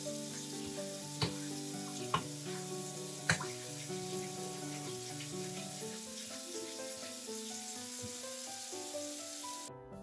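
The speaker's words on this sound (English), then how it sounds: "sanding this under running water" An engraved aluminum clock dial is sanded under running water, a steady hiss of flowing water with faint rubbing and a few sharp knocks, continuous and close before cutting off at the end.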